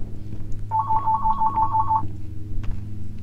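A telephone rings in the Bendy and the Ink Machine video game, one steady electronic ring tone lasting over a second, sounding clearly above a low hum and faint background noise.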